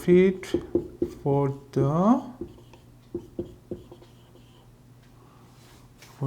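A pen scratches across paper in short strokes while an accounting entry is filled in, quiet and close beneath a man's steady speech.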